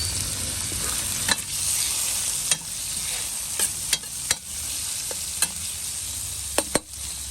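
Potatoes and carrots stirred in a pan with tomato and browned garlic, under a steady loud sizzle broken by several sharp spoon scrapes and clacks, close up and without talking.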